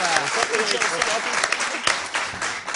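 A studio audience applauds the presenter of an evening news show, a short burst of crowd clapping that stays fairly loud while voices talk over it.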